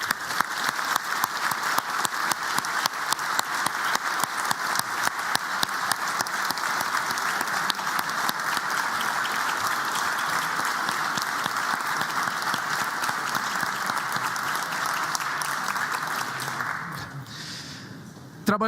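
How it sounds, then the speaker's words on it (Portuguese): Audience at a formal speech event gives a sustained round of applause, dense and loud throughout, then thinning and tapering off near the end. "uma salva de palmas"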